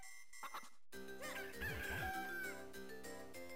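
Chickens in the video game Zelda Minish Cap, heard as faint chiptune-style clucking chirps followed by a louder tonal jingle of bird-like squawks over game music.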